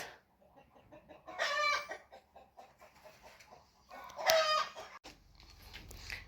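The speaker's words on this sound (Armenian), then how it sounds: "մեր հավերն են, դուրս են եկել դուրս" Chickens cluck and squawk nearby, with two louder bursts of excited calling over a quiet outdoor background.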